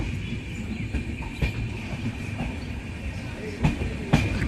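The Kanchan Kanya Express train rolls into New Mal Junction station with rhythmic clattering of its wheels and carriages, moderately loud and close, with a few sharper knocks near the end.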